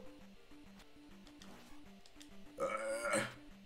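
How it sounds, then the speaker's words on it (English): A loud, drawn-out burp rises near the end after quieter background game sounds, close to the microphone with no talking over it. "I make disgusting noises when I fucking have to burp"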